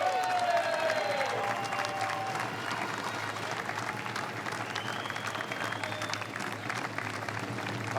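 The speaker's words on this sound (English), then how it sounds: "Je vous demande de les applaudir." A hall audience at the World Pastry Cup, a pastry competition, applauds the event volunteers with steady, dense clapping that holds evenly through the whole stretch, with a faint tone and brief voices in the background.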